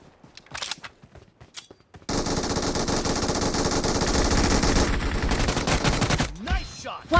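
Gunfire in the PUBG arena team deathmatch video game: a few scattered single shots open, then a loud, sustained automatic burst rattles on continuously for several seconds before breaking into trailing shots and clatter.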